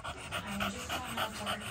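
Rapid, rhythmic puppy panting close by, quick breaths repeating steadily at a soft level.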